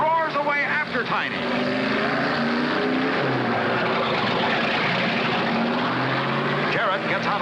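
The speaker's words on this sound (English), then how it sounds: "Lorenzen roars away after Tiny." A Ford stock car roars away in the 1963 Daytona 500, its engine a loud, continuous drone with rising and falling pitch, heard under a narrator's voice.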